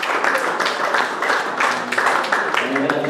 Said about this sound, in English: Let's give both men a round of applause.